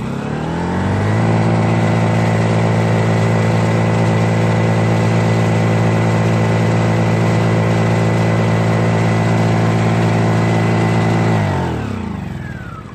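A Honda EU1000 generator engine runs loud and close, rising quickly to a steady, even hum that holds for about ten seconds before winding down and fading out.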